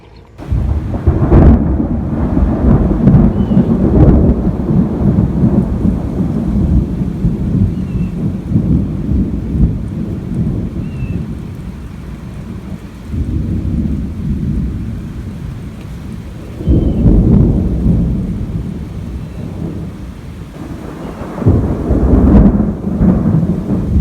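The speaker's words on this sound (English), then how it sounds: "It's been raining" A heavy thunderstorm with steady rain pouring down, broken by repeated deep rolling thunder rumbles that swell and fade loudly, close and continuous throughout with no voices.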